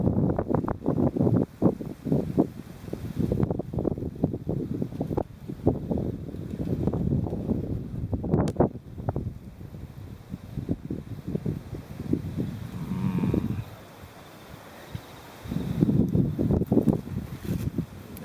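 Strong wind gusting outdoors just after a typhoon passed, a steady roaring rush with bursts of buffeting against the microphone that ease briefly near the end before picking up again.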